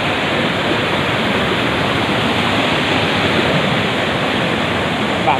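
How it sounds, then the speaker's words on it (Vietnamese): A rural mountain stream flows in winter, a loud, steady broadband rush of water filling the whole span without a break and with no voices over it. "Đây là suối nha."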